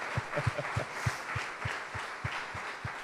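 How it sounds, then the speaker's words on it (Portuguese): Congregation applause in a Brazilian Portuguese church service, a modest, fairly faint patter of hands with a few distinct claps beneath it, continuing briefly with no talk. "Mais um aplauso ao Senhor"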